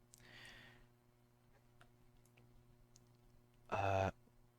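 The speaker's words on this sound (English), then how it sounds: "let's click this button and get the installer downloading" Mouse clicks while opening a Python 3.11.0 installer on a Windows computer: a faint click near the start, then a loud, sharp burst near the end over a quiet electrical hum.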